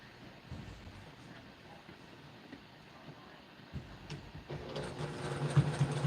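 A sewing machine stitches quilt patches together like a nine-patch block, a soft steady whir that grows louder and more continuous in the final second and a half after quieter handling noise.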